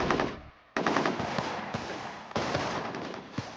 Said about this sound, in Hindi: मेजर अवस्थी की टीम काउंटर फायरिंग कर रही है, एक एडमिन ब्लॉक के ऊपर और 86 वॉल के पीछे।